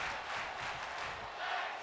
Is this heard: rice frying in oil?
no